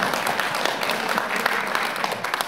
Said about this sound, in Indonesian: Tepuk tangan dulu boleh.